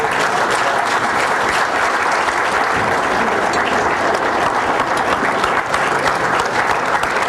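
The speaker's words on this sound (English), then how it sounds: "let's have a round of applause." A studio audience claps in loud, sustained applause that holds steady and dense throughout.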